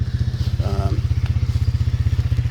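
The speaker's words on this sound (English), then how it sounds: "Oh, that noise is the four-wheeler." A nearby four-wheeler ATV engine idles with a rapid, steady low chugging, loud and rhythmic, with a brief higher tone briefly overlapping it.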